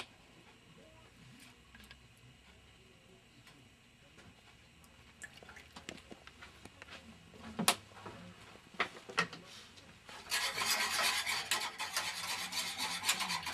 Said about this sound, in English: We're going to whisk that